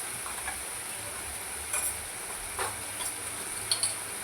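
Homemade Agri masala, Kashmiri chili powder, coriander-cumin powder and turmeric roast in a pan with a soft, continuous sizzle, broken by a few light stirring scrapes and taps.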